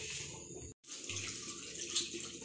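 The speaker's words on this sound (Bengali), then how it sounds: "ভালো করে ধুতে হবে বলো" Tap water runs steadily into a sink while raw chicken is washed, a close, even gush that cuts off for an instant before flowing again.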